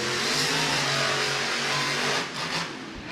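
Loud, continuous roaring of Monster Jam monster truck engines revving as two trucks race side by side in an Orlando arena, easing slightly near the end.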